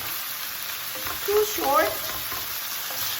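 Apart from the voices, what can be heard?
onion frying and being stirred in a pan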